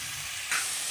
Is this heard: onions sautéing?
yes